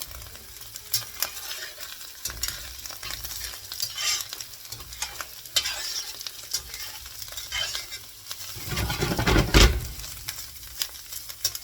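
Oil sizzling in a heavy ten-pound cast iron pan as it is spread around, a loud continuous crackle with scraping and stirring strokes and a louder burst of sizzle near the end.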